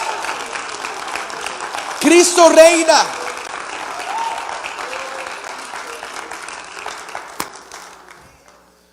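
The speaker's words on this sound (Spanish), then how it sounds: "¿Habrá alguien que pueda dar un aplauso, Señor?" Congregation applause in a Spanish-speaking church service, a sustained, fairly loud patter of many hands that fades out near the end, with a brief burst of voices calling out partway through.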